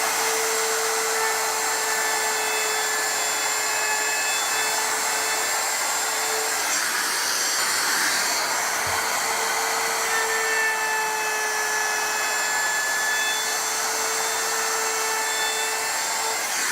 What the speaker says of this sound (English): This particular bit has a bearing on it, so it's just going to glide across the surface of the wood and give me a nice, smooth, round edge